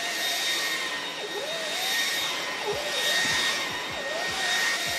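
A Dreame V11 cordless stick vacuum runs at max power, a steady high-pitched whine with a broad airy rush and a few faint low bumps, constant and close throughout.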